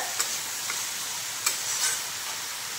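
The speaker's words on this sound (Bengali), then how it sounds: "এবার দিয়ে দিলাম কুচনো পেঁয়াজ। পেঁয়াজটা এদিকে লাল হবে।" Chopped onion fries in a pan with a soft, steady hiss of sizzling, broken by a few faint clicks and scrapes of stirring.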